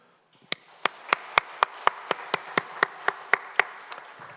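A church congregation claps together in a steady, even rhythm of about fourteen sharp beats in a reverberant hall.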